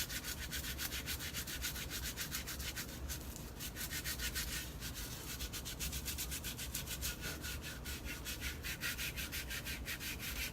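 Hands and arms are lathered and scrubbed up to the elbows, giving a steady, close rubbing and swishing that carries on without a break and without any talk.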